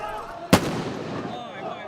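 A single sharp blast from a firecracker or stun grenade during a riot in Israel, loud and sudden, followed by a lingering rumble of crowd noise with a voice speaking over it.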